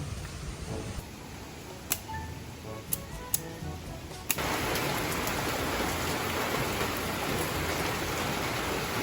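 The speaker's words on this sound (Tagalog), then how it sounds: "Maghapong maulan mga kadilag, hindi pa rin po natila" Continuous rain falls during an all-day downpour in the Philippines, with a few sharp ticks early on. The hiss becomes heavier and denser after a few seconds and then holds steady to the end.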